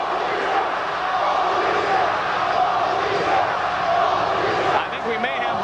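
A professional wrestling crowd roars and jeers at the Australian wrestlers, a dense continuous wall of voices filling the arena, with a commentator talking over it.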